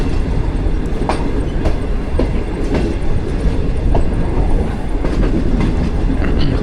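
Green Line Express train from Islamabad to Karachi, led by a GU20 locomotive, rumbling loudly and steadily with rhythmic clickety-clack of wheels over rail joints throughout.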